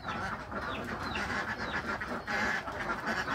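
Ducks quacking in a flock kept for egg laying, overlapping rapid quacks and calls from several birds close by, continuous with no talk.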